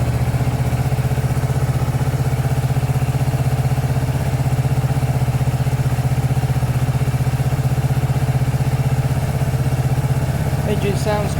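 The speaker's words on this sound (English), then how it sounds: "Engine sounds good" A 2019 Kawasaki ER6 Z650 motorcycle engine idles steadily up close, an even low rumbling throb that holds constant throughout with a brief disturbance near the end.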